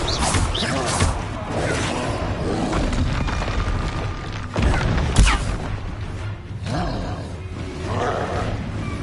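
A Confringo explosion spell cast in Hogwarts Legacy on PS5 sets off heavy booming blasts that erupt over continuous roaring game noise, with the sharpest bursts landing near the middle.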